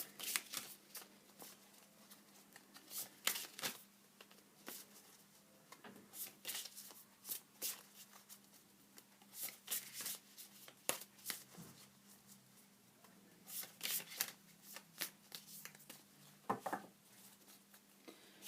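Tarot cards are shuffled continuously at close range, a quiet, steady stream of riffling and flicking bursts in an uneven rhythm, with no talking.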